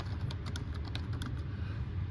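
Typing on a computer keyboard while entering a school name into a software license form: a quick, irregular run of light key clicks at close range over a low background hum, with no talking.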